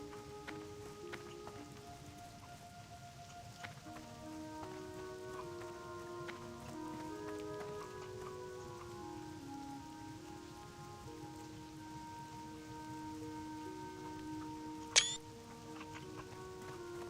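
Steady rain falls across a World of Warcraft landscape, a soft continuous hiss with game music tones running beneath it and one brief sharp chime near the end.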